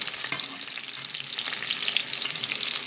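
Homemade meatballs shallow frying in a pan give off a steady, bright crackling sizzle with fine popping spatters, close up and continuous, no voices.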